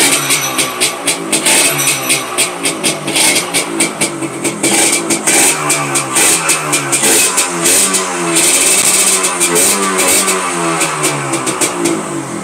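A Suzuki Tornado motorcycle on a used-bike lot runs close and loud, its engine pulsing through repeated rev blips and settling back between them for the whole stretch, with no voices over it.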